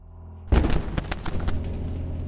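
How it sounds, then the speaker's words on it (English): Dynamite goes off in a horror toilet game, a sudden loud blast followed by a string of crackling pops and bursts that fade out over a couple of seconds. "Oh, dynamite!"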